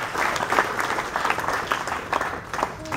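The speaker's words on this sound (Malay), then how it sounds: "Tepuk tangan." An audience applauds at a send-off ceremony for a Carstensz Pyramid expedition to Papua, with scattered claps forming a moderate, uneven round of applause at middling distance.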